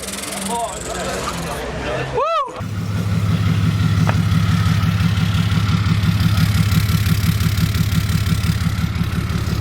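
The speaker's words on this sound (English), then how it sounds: "This thing sounds like an airplane every time I turn it on. You hear the turbo spool." A tow truck's engine with a 4 or 5 inch straight pipe exhaust rumbles loudly and steadily up close, a brief rising turbo spool whine near the start before a deep, pulsing idle drone.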